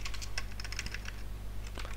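Steady typing on a computer keyboard, with quick, close key clicks in an even stream over a low background hum.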